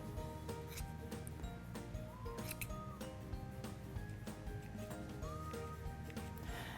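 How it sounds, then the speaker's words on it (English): Scissors snip through tassel yarn loops in a run of short, crisp cuts at an uneven pace, close and faint over a steady background hum, with no talking. "And then trim the excess pieces off. And then trim the loops."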